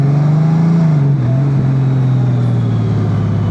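Honda Gold Wing GL1800 DCT motorcycle engine running steadily, a loud, continuous low drone that dips slightly about a second in and then holds a smooth, even note throughout.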